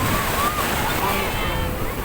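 Gentle sea waves wash onto the beach at Ras El Bar in Egypt, a steady surf hiss mixed with wind buffeting the microphone while a person talks over it.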